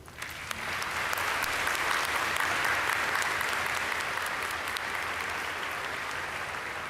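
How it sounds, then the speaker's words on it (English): A graduation audience at a spring commencement applauds loudly and steadily for the full length, a dense wash of many hands clapping in a large hall. "I think that deserves some applause"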